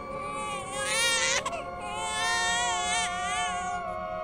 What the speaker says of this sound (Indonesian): Dan bayi itu terus menangis.